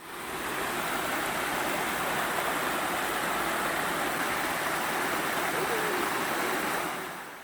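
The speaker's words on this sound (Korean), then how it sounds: "시원한 계곡이 있네요." A cool mountain valley stream flows steadily in a large city park, making a constant broadband rush of water that stays even throughout with no voices.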